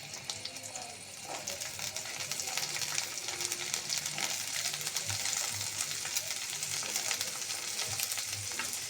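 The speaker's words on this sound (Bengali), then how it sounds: "পেঁয়াজটা আমি ভেজে নেই হালকা" Onion lightly frying in oil, a continuous soft hiss and crackle heard close and alone, with faint occasional stirring.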